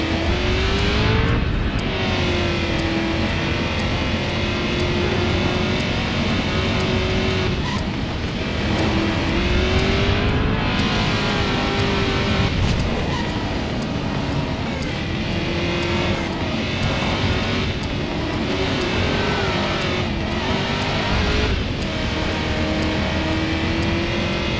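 A car in the Xbox 360 game Driver: San Francisco revs and accelerates hard, its engine note climbing and falling in repeated surges across a steady, loud racing din, with brief tire squeal.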